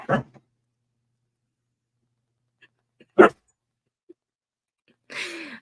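A dog growls and gives short barks indoors: three brief, isolated vocal bursts a few seconds apart, the last a longer, rougher growl, with quiet gaps between them.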